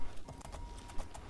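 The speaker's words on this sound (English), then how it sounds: "Look at my horse. She's amazing." Horse hooves clip-clop in quick, irregular steps in the video game Oblivion: Shivering Isles, heard close and fairly loud with no voices over them.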